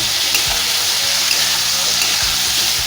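Vegetables with spices sizzle steadily in a hot pan while they are stirred, giving a constant dense frying hiss with occasional scraping of the spatula. No voices.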